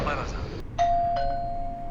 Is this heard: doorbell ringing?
yes